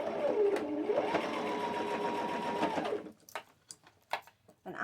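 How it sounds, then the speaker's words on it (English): A sewing machine runs a zigzag stitch along lace appliqué on a pair of overalls, a steady close whirring that speeds up and slows for about three seconds, then stops, leaving a few soft clicks and handling noises. "So I'm going to do a zigzag stitch on this right here because it's lace and I want to make sure I catch it."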